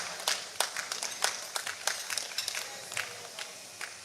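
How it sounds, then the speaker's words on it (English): Applause at an awards ceremony, a crowd clapping steadily for about four seconds with sharp, dense hand claps, moderately distant and with no talk over it. "A round of applause, please."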